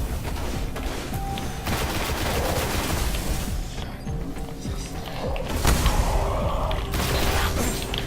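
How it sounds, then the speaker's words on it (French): A thrown grenade and gunfire in the Destiny video game: a continuous spread of loud rapid firing with a booming burst partway through, steady and close throughout. "On va tirer la grenade."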